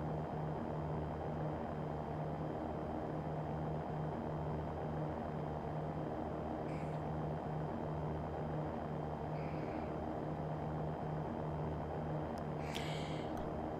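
Cirrus SR20 propeller engine in the X-Plane 11 flight simulator, a steady, even drone with a low constant hum that holds throughout at a soft level, with a few faint clicks near the end.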